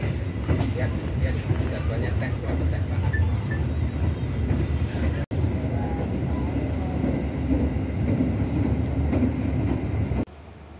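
The Dharmawangsa passenger train rumbles steadily along the rails with a rhythmic clatter, loud and close, as a voice speaks over it while arriving at Lamongan station; a brief dropout interrupts midway.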